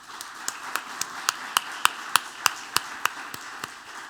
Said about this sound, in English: Round of applause to our speakers.